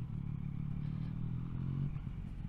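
Honda NC700 or NC750 motorcycle engine running steadily with a low, throbbing rumble and some clatter, heard close and continuous from a riding perspective, with no talking.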